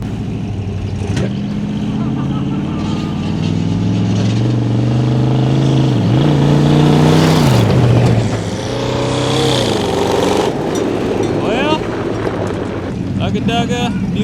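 Mud buggies at a race start rev hard for dirt burnouts, loud roaring engines rising and falling in pitch with wind buffeting, close to the microphone, while a voice talks over them.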